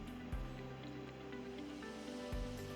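Water poured from a can into a bowl of a cheesy casserole mix in a home kitchen, a soft, close trickle with a couple of faint knocks against the dish.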